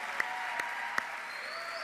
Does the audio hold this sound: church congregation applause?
yes